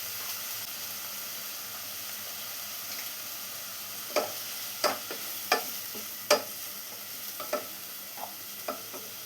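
Onions and curry leaves sautéing in a pan with a soft, steady sizzle, broken by a series of clicking spatula stirs in the latter half of the clip, close and moderately quiet.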